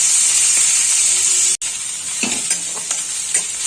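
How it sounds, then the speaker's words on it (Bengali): Onions frying in a pan with oil, a loud, steady close-up sizzle and hiss with occasional stirring scrapes and a brief dropout midway. "একটু ভেজে নেব।"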